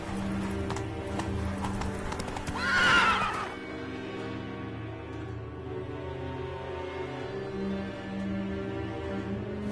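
Roach, a horse in The Witcher 3, trots with steady clip-clop hoofbeats and lets out one loud whinny partway through, then settles into quieter ambient game sound.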